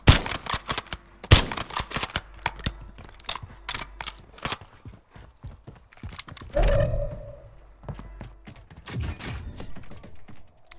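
Gunfire in an online shooter game, sharp irregular shots and bursts with some mechanical clatter, fairly close, coming in clusters separated by quieter stretches.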